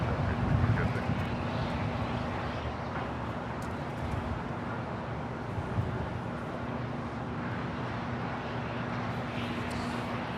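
A Boeing 787 Dreamliner on short final for runway 24 at LAX, heard as a faint, distant jet rumble with a steady low hum that holds evenly throughout under broad background noise.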